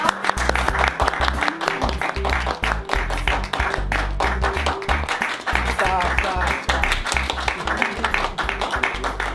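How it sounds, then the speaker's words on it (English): An audience breaks into a sustained round of applause, dense clapping lasting the whole stretch with a voice speaking over it. "let's give a round of applause."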